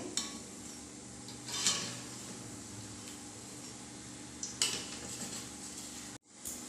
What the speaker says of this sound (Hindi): 3 से 4 मिनट तक लो टू मीडियम फ्लेम के ऊपर फ्राई करने के बाद अब हम इसे पलट देंगे।